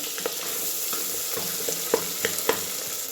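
Tomato and spices fry for masala rice with a steady close sizzle, broken by several light spatula taps and stirring knocks against the pan.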